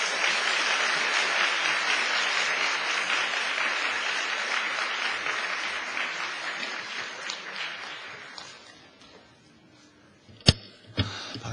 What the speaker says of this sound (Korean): 크게 박수로 환영해 주시기 바랍니다.